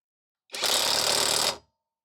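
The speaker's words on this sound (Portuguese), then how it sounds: "Eu vou fazer um aperto leve agora, em baixa rotação e também em baixo torque" A Tecepo 21V cordless impact wrench runs one short, light tightening burst at low speed and low torque, a loud rattling hammer buzz lasting about a second, alone and then cut off.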